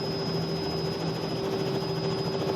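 Simulated Robinson R66 turbine helicopter from Microsoft Flight Simulator, a steady, loud whirring drone of rotor and engine with a constant high whine and low hum, continuous throughout with no voices.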